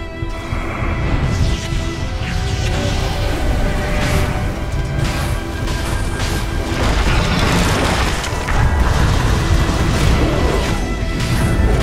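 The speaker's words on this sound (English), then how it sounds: "Radiant's middle tower is under attack." A Dota 2 tower under attack and being destroyed, a continuous loud wash of booming impacts, crashes and battle effects throughout with a tonal hum underneath.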